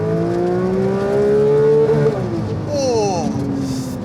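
A 2022 Porsche 911 GT3 flat-six in Euro spec with an exhaust particulate filter, revving loud and close: a rising wail that peaks near redline around two seconds, drops, then climbs again in a second shorter burst.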